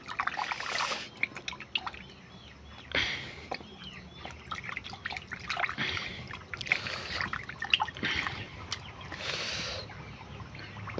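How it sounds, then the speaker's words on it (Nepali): Poultry vaccine is stirred into water in a broiler farm setting, with soft intermittent trickles and drips, quiet and close, and faint bird sounds in the background. "म भ्याक्सिन पानीमा मिसाउनु गइरहेको छु"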